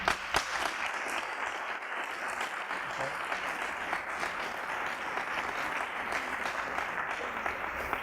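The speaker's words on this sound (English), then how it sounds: "I'd like to give you all a round of applause" A crowd at a startup competition grand finale applauds steadily for the finalists, a dense, even wash of clapping that holds at a moderate level throughout.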